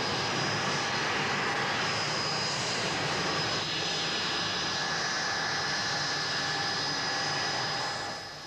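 Blackburn Buccaneer jet aircraft engine, a loud, steady broadband roar with a high whine running throughout, holding constant before easing slightly at the end.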